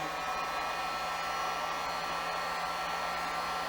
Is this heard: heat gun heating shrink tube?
yes